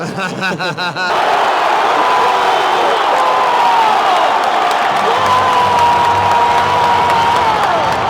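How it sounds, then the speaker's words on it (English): A packed stadium crowd roars and cheers after Julián Álvarez scores Argentina's first goal at the Copa América, a dense, sustained wall of loud voices with whoops and whistles rising over it. "everyone began to go crazy once Julián Álvarez scored the first goal of the game"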